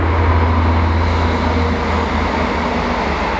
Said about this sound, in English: Oh, train.